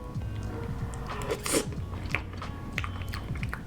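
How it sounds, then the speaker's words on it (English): A first bite of a stringy food eaten plain, without rice, with soft biting and chewing crunches close by and no talking. "Let's have our first bite."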